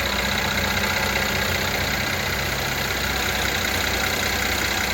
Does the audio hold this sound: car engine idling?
yes